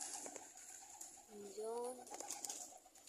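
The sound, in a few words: pigeons cooing during pigeon flying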